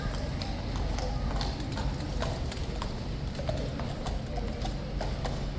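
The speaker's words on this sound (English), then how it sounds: "Here he comes, on his trusty steed." Hooves of a King's Guard officer's grey horse clip-clop steadily on hard ground at Horse Guards, a continuous close rhythm of strikes over outdoor crowd murmur.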